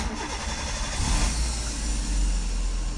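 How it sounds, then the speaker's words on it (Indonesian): A 2008 Suzuki Karimun Estilo car engine cranks and catches about a second in, then settles into a steady, close idle with a low rumble and mild rise in revs. "Saya akan nyalakan mesinnya."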